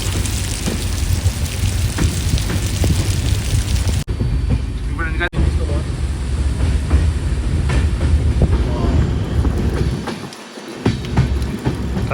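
The Karwar Express rolls along the rails between Mangaluru and Yesvantpur in the rain, a steady loud rumble and rattle of the carriages with rain noise mixed in and a short dip near the end.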